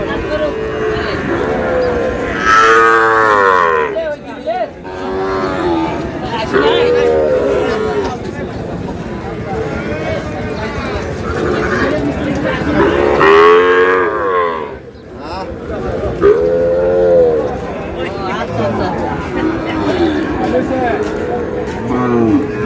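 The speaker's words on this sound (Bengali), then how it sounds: "কয়েকটি গরু দেখছেন।" Cattle mooing loudly at Ambari livestock market in Tangail, several long drawn-out calls from nearby animals, with people talking in the background.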